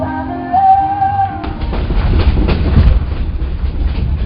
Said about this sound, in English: Here we are on the train